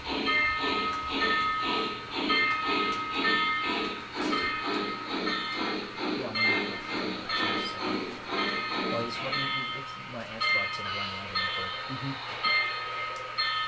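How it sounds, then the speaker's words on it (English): A steam train whistle sounds in repeated pulsing blasts with hissing steam, fairly loud and close, then fades into rumbling hiss. "Listen to that whistle."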